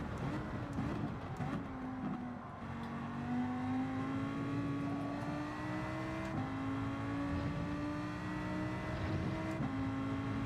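A Lamborghini engine in the Gran Turismo 7 video game drones continuously through a race, pitch climbing through each gear and dropping at shifts, loud and sustained with no talking.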